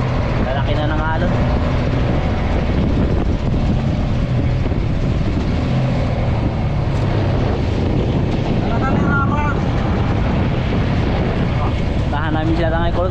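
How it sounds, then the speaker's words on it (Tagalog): Strong wind buffets the microphone while a boat rides rough, growing waves at sea, giving a constant loud roar with splashing and engine rumble and brief bits of talk underneath. "Mahangin. Lalaki na ng alon."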